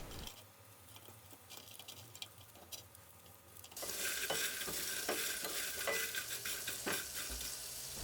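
Crumbled nurungji, scorched rice, is stirred in a pan to dry it out, giving quiet scraping and rustling that turns into louder, busier crackling and sizzling partway through, with nobody talking.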